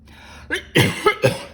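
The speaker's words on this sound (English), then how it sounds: "I was really hoping to avoid that next cough" A person coughs three or four times in quick, close succession during a statistics lecture, harsh throaty bursts after a short rasping throat-clear, loud and near with no talk.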